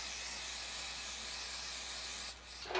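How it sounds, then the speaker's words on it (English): A steady, bright hiss of aerosol adhesive spraying onto lace wig pieces continuously for over two seconds, then cutting off with a brief faint rustle. "I'm gonna take some of my adhesive, spray them both down"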